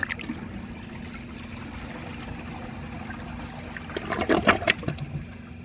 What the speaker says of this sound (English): I'm flushing this by manually lifting the chain with my fingers